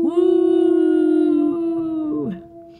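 A human voice imitates a wolf howl, one loud sustained tonal "woo" held close to the microphone for about two seconds before sliding down and breaking off.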